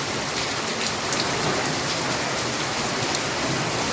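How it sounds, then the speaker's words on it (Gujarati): Heavy rain pours down in Junagadh, a loud, steady, dense hiss of drops striking surfaces, unbroken for the whole stretch with no voices. "કેવો છે જો ભાઈ જુનાગઢનો વરસાદ આવો ગાંડો"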